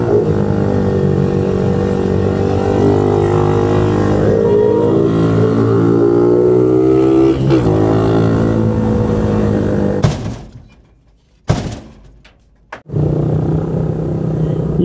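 Heavy road traffic on C5 near the flyover, a loud steady rumble of engines with a passing vehicle, then the sound cuts briefly before the traffic noise resumes.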